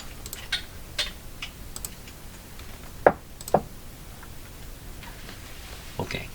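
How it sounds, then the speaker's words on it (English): A cat walks across a computer keyboard, producing a few scattered key clicks and taps at irregular intervals over faint background hiss, with two sharper knocks near the middle. "That's my cat stomping over my keyboard."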